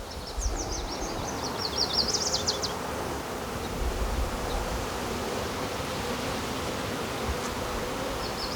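Honey bees from a nuc being moved into a hive drone in a continuous close buzz, with individual bees zipping past now and then, heard alone without talk.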